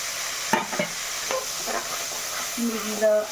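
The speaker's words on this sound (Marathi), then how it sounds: "हे ठेचलेलं आहे हे फ्राय करून घेते लसूण जिरं अद्रक हे फ्राय झालेलं आहे" Crushed garlic, cumin and ginger fry with spices in a pan, a steady close sizzle broken by several sharp scrapes and clinks of a spoon stirring, no voices.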